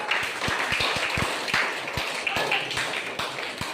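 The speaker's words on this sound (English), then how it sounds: "Clap for him." A school audience claps for a first-prize winner at a house elocution program, rapid overlapping claps from a crowd with a few sharp, close hits standing out, and voices murmuring underneath.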